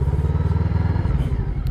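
A VOGE 525 R motorcycle brakes hard on its combined twin front discs and rear brake, the engine rumbling steadily close up with a dense low drone and light clatter throughout.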